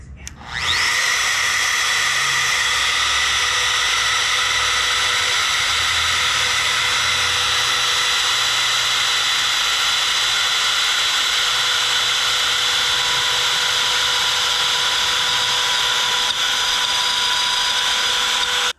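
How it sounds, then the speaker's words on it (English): A wood router cutting through wood, spinning up at the start and then holding a loud, steady high-pitched whine for the whole stretch, close by, with no talking. "I turn off the router and wait for it to completely stop spinning"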